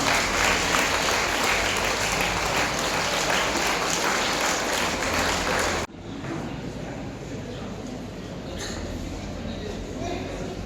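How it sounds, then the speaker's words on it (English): Audience applause at a college publication release event, a dense sustained clapping that fills the room loud and steady, then drops slightly in level midway and continues more thinly to the end. "Let's give a big round of applause."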